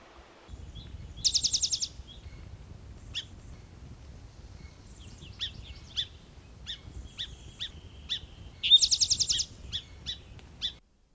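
Spotted towhee singing in Coast Range foothill forest in spring: two bright buzzy trills about seven seconds apart, with scattered short chips and calls from other birds in between, clear against a quiet background.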